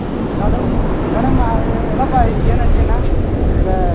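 Strong wind at the sea in Sri Lanka roars and buffets the microphone, with waves and water beneath it, loud and continuous under someone talking.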